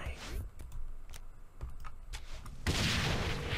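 A grenade goes off in Saints Row 3, a loud burst of blast noise that follows several sharp gunfire-like cracks.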